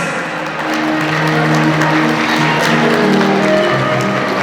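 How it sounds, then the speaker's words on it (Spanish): Wedding guests applaud in a moderate, even patter of clapping that carries on over a sustained musical tone in the background. "Los aplausos, por favor, señores"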